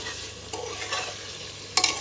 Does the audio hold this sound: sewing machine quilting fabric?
no